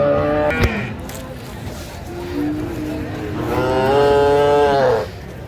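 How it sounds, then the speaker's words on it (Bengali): Cattle at a busy livestock market in Dinajpur, with dairy cows and calves for sale, give several drawn-out moos close by over a steady murmur of the crowd. "আর আমরা দেখছিলাম এখানে একটি গাভী বাছুর হ্যাঁ।"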